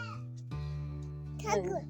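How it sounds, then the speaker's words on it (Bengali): A goat bleats one long, wavering, nasal call that swells near the end, close and fairly loud, in a rural home after a night of heavy rain. "ছাগল ডাকছে"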